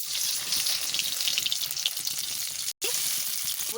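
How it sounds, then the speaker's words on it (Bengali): Potatoes hit hot oil with a loud, steady frying sizzle that runs continuously, broken by one very brief gap near the end; no talking. "এদিকে আমার এদিকে তেল গরম হয়ে গেছে আলু দিয়ে দিচ্ছি"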